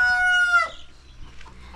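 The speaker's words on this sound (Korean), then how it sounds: "그리고 여기 이렇게 닭을 키웁니다" A chicken in a Nepali village yard gives a loud, close rising squawk with bright harmonics, then fades into soft scattered clucks and yard ambience.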